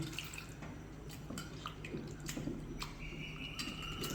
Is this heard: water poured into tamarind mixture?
yes